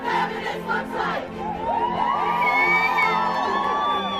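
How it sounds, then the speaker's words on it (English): Massive crowd of women marching at a protest, loud overlapping shouts and whoops from many voices close by, swelling into sustained cheering chants. "Massive crowd of women marching behind me."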